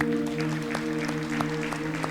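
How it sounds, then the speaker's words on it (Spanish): Congregation clapping during a Spanish-language church service after a prayer, scattered hand claps with a few sharper strikes over a steady hum of sustained organ or keyboard tones, moderately loud. "Vamos a darle un aplauso al Señor."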